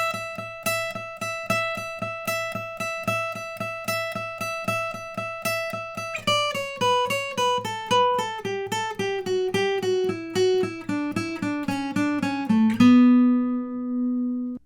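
A fast alternate-picked guitar solo run from a song, a steady pulse of evenly picked notes: a repeated held figure, then a stepwise descending line, ending on a sustained low note.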